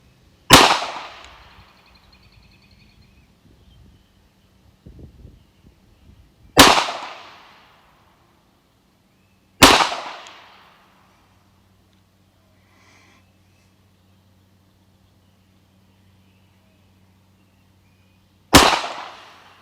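Four loud, sharp pistol shots from a Tisas PX9 at a shooting range, widely spaced and each ringing out with a brief decay, with quiet handling noise between.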